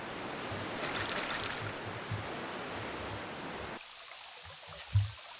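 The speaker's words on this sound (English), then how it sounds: "It's very relaxing, the sound of that waterfall." A waterfall in the King's Quest 3 Redux video game gives a steady, even rushing wash for nearly four seconds, then cuts to near quiet with a couple of soft thuds.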